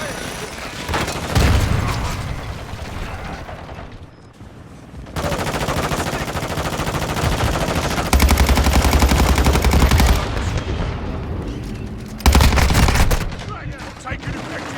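Loud, continuous automatic gunfire and heavy bursts from a Call of Duty firefight, rattling in long volleys with thumping impacts, with voices under the shooting.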